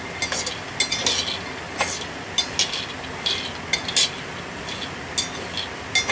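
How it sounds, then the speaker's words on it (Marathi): Peanuts being dry-roasted and stirred in a pan over low heat, giving scattered light clicks and rattles of the nuts against the pan over a faint, steady hiss. "शेंगदाणे चांगले खरपूस भाजून घेते मंद आचेवर"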